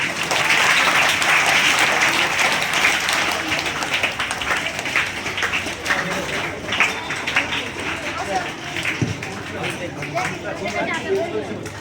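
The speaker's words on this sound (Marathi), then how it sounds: "सर्व विद्यार्थ्यांनी एकदा या सर्व मान्यवरांसाठी जोरदार टाळ्या वाजवायचे आहेत" Students at a school gathering break into loud, sustained applause for guests, dense clapping that slowly thins, with crowd chatter and a voice underneath.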